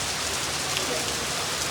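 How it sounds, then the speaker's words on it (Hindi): Heavy, cold rain pours down steadily in a dense, even hiss that fills the whole clip, with raindrops drumming on surfaces close by and no voices over it. "यार, बड़ी तेज बारिश, मन कर रहा नहाने का।"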